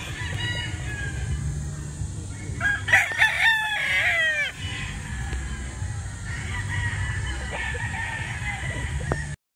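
Hens and roosters at a gamefowl farm in Tanauan, Batangas, with a rooster crowing clearly nearby amid clucking and other birds, over a steady background murmur.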